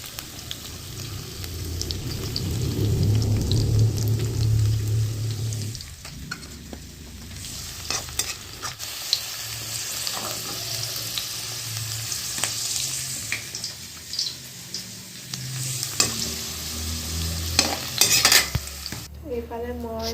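Ginger, garlic and onion sizzle as they fry in a pan, joined by frequent spatula scrapes and clatter from stirring. A steady hum runs under the first few seconds, and the frying stays close throughout.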